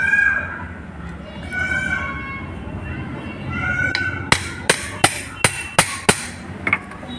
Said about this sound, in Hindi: कुछ इस तरीके से हम इसके ऊपर चोट मार लेंगे